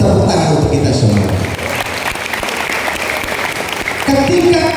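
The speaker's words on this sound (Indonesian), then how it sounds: "Tepuk tangan untuk kita semua." Loud audience applause fills a religious lecture hall, a dense wash of clapping that swells and holds steady, with voices mixed in at the start and end.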